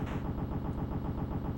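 Rapid, continuous gunfire from a shooting game on a Coolboy 400-in-1 handheld console, with a dense, even rhythm of shots that persists steadily at moderate loudness throughout and is heard alone.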